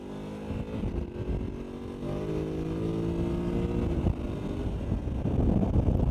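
A Voge 900DSX motorcycle accelerates on a road: a steady, fairly loud engine drone whose tone climbs slightly as the throttle opens, with wind buffeting the microphone throughout.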